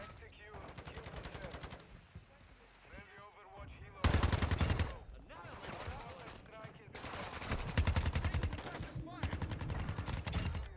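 Rapid bursts of TR-76 Geist rifle fire in the video game Black Ops 4, loud and close, recurring across the stretch with a sharp heavy volley partway through, mixed with game effects and a voice talking over it.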